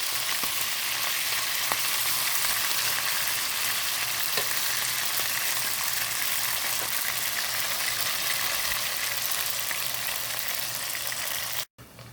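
Ground beef frying in hot oil in a pan while being spread out and stirred, a continuous loud sizzle with scattered pops and scrapes that cuts off abruptly at the end.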